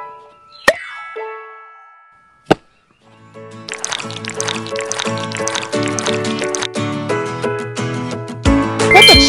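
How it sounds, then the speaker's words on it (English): In a cooking video game, two sharp clicks, then a steady sizzling, crackling stream of oil pouring into a pot, growing busier and louder toward the end. "Pour the oil into the pot."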